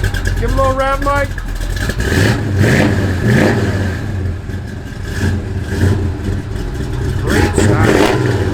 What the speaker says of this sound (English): Give a little rev, Mike.